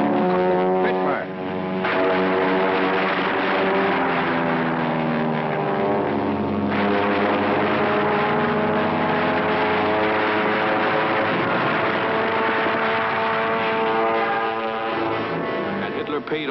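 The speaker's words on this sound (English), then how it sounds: "Spitfire." Spitfire fighter plane engines drone loudly and continuously through an archival Battle of Britain wartime recording, a heavy propeller roar with harmonic tones shifting in pitch as aircraft pass.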